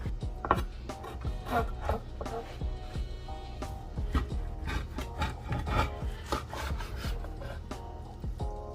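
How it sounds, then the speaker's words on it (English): A knife saws through grilled spareribs cooked on a Weber Performer Deluxe kettle, with repeated rough rasping strokes and thuds in an uneven rhythm, close and fairly clear, with occasional quiet voice sounds. "That thing sliced right through."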